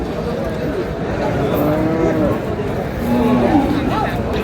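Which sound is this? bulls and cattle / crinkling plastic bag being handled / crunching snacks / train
bulls and cattle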